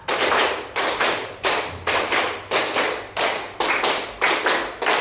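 Students in a classroom clap in unison, repeating a five-clap counting pattern three times, a long run of about a dozen sharp, evenly spaced group claps close and loud, without speech.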